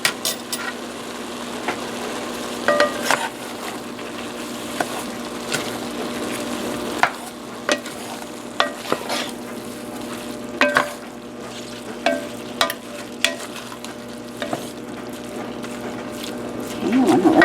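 Smoked sausage and cabbage frying in a pan, a steady close sizzle broken by repeated scraping and clacking as the food is stirred, with a voice talking now and then.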